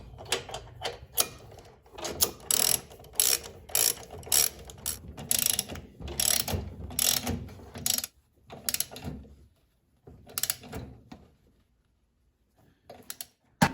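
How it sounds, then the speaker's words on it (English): A flywheel nut is tightened on a Tecumseh snow blower engine, heard as bursts of rapid ratchet clicking in quick runs, close and fairly crisp, with brief pauses and a quiet stretch near the end. "put the cup back on and put the nut back on and tighten it down"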